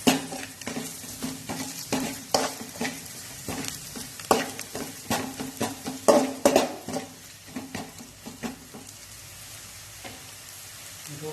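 A spoon stirs horse gram dal with salt and coriander powder in a pot, giving a steady run of close scraping and clinking strokes over a soft sizzle. The strokes fade toward the end, and no one speaks.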